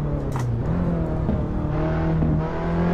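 Race car engine in the Assetto Corsa driving game holds a steady, loud drone under throttle through a corner, with harmonic pitch shifting slightly and continuous, with no voices.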